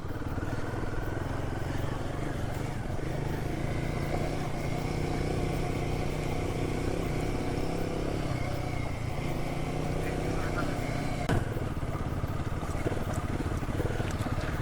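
A Royal Enfield Himalayan 450 motorcycle rides over a rough monsoon road in Maharashtra, its engine droning steadily up close with occasional clatter from the bumpy surface.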